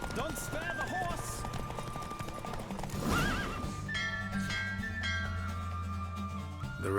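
Horse neighing and whinnying with clip-clop hoofbeats during a race in the video game The Witcher 3, set under game music and ambience, with a louder neigh midway.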